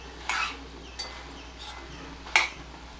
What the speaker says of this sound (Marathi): असं झाकण काढून अधनमधनं वर खाली करा व्यवस्थित ढवळून घ्या